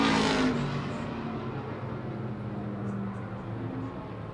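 A NASCAR late model race car on a single car qualifying lap at La Crosse Speedway roars loudly at the start, then its engine drone fades and holds as a steady, more distant rumble.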